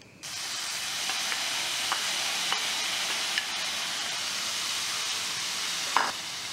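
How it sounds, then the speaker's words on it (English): Shrimp cook in a hot pan with a steady, close frying sizzle and hiss that starts abruptly and holds evenly, broken by a few faint taps and a brief louder flare near the end. "gonna cook the shrimp next"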